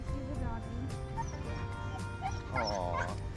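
A young puppy meeting a larger dog lets out high, wavering whimpers and short yips, close by, while a person talks softly in the background.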